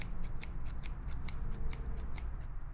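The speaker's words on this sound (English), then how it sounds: "let me start with just kind of cleaning up a little bit with some scissors" Scissors snip hair on an ASMR binaural microphone head in a quick, even series of about a dozen close, crisp metallic cuts, with no talking.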